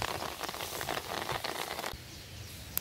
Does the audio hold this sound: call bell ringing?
no